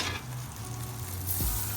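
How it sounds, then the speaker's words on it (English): Steak sauce sizzling on a hot Blackstone griddle with cheesesteak meat, a steady close crackling fry with light scraping and stirring throughout. "And right there, I'm going down with some steak sauce."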